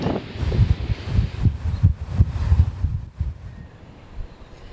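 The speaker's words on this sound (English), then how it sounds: "It's pretty windy." Wind gusts buffet an outdoor microphone in rolling, low rumbling bursts near a water fountain in Japan, easing off toward the end.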